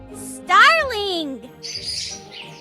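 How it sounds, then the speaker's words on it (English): A starling gives a close, sliding whistled call that rises and falls, followed by softer raspy chatter. "Starling."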